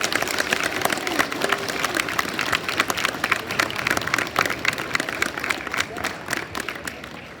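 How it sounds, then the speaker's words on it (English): Sustained audience applause for graduates at a school DARE graduation ceremony in Osakis, a dense steady roar of many hands clapping that holds at even loudness for several seconds before easing slightly. "You may applaud at this time for all our graduates."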